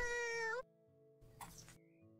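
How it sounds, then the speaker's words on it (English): A single clear cat meow from the House Flipper video game, a short rising-falling call up front, followed by quiet game background tones. "It did the meow noise again."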